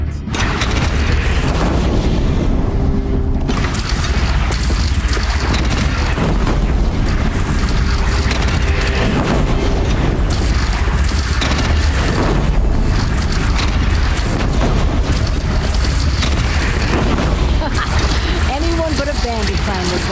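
Cannon fire during a bandit camp assault in the video game Horizon Zero Dawn: loud, dense booming blasts and rumble running continuously throughout, with battle noise layered over it and voices talking.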